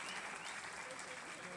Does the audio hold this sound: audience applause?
yes